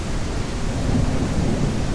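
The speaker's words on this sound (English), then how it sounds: "Listen to that rain. Look at the rain, even. Just look at the weather effect." Stormy night weather in the PSVR2 kayaking game Kayak VR: Mirage, with heavy rain hissing on water and a deep rolling thunder rumble underneath, loud and continuous throughout.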